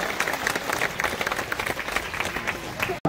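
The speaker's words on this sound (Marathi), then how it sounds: "टाळ्या वाजवूयात महाराज साहेबांच्या स्वागतासाठी मला जोरात टाळ्या वाजवूयात" A crowd at an election campaign rally applauds loudly to welcome Maharaj Saheb, with dense, rhythmic clapping running steadily before cutting off abruptly near the end.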